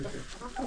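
Chickens clucking in Thini village in Mustang, Nepal, a few short clucks close by over faint background noise.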